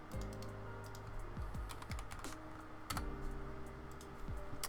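Computer keyboard keys are pressed in quick irregular bursts of soft clicks and taps, close and quiet, with no talking.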